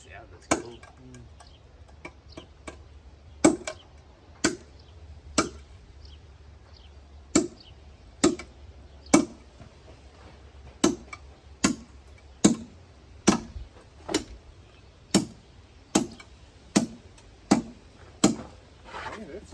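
Stone tool tapping into basalt rock, a long series of sharp, bright clicks at a fairly steady pace, growing slightly faster toward the end, with faint voices in the background.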